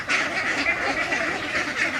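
Several ducks quack continuously at close range, their nasal calls overlapping in a busy, chattering flock.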